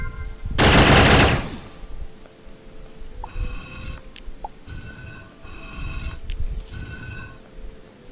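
Gunfire from an infinite-ammo weapon in modded Starbound: a loud dense burst of rapid shots up front, then lighter scattered firing and small sharp pops over a steady game background.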